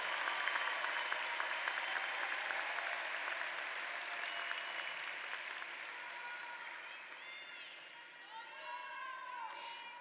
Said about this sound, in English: how about one more round of applause for our a cappella choir?